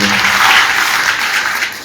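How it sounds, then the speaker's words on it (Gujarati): A crowd at a political rally in Chotila claps loudly and steadily, a dense wash of applause that tapers off slightly toward the end. "જોરદાર તાળીઓથી એમને"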